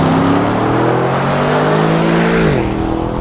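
An Aston Martin DBX with its stock exhaust roars past close by, its pitch holding steady and then dropping sharply as it goes away.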